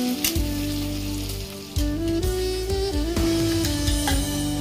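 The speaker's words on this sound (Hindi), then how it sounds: "दोस्तों प्याज को ब्राउन होने तक भुनेंगे बढ़िया से।" Onions frying in a pan until brown for a prawn curry, giving a steady, close sizzle with occasional stirring scrapes throughout, and no voices.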